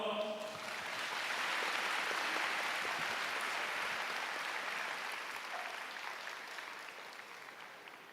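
Large audience applauding at a university graduation ceremony in Seoul, a dense sustained wash of clapping that swells quickly, holds for several seconds, then gradually fades.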